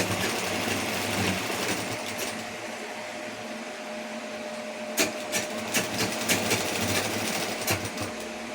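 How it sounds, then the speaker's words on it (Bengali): A sewing machine stitches a blouse with a close, steady mechanical whir, then a stretch of sharper rapid clicks and knocks in its second half. "দেখতে পাচ্ছ সেলাইটা কীরকম করছি।"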